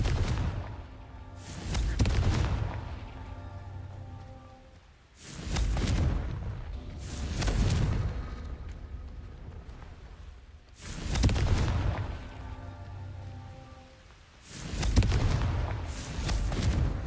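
Confringo blasting-spell explosions in Hogwarts Legacy, several booming blasts spaced a few seconds apart, each a broad burst that fades into a rumbling tail, with no talking.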